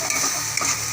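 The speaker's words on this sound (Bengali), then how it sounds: "এবার মশলাটাকে আমি ভালো করে কষিয়ে নেব। টমেটো কুচি দিয়ে দেবো।" Spice paste fried with chopped tomato, a close, bright sizzle with soft scraping strokes of stirring, lasting only a moment.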